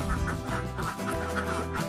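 Egg-laying ducks on a duck farm quacking in a repeated, overlapping chorus, fairly loud and close, a rough nasal rhythm over a low steady background hum.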